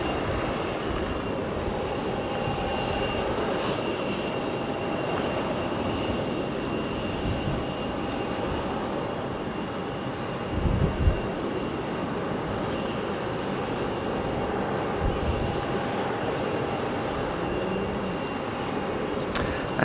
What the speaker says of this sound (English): It looks like there is potentially a private jet turning up as well. Looks like a Learjet.